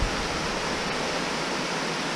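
A waterfall splits in two around a large boulder, a steady broadband roar of falling water, close and constant, with no voices.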